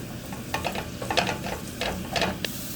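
Bean sprouts fry in olive oil with jasmine rice in a pan, a soft steady sizzle broken by repeated scraping stirs of a utensil.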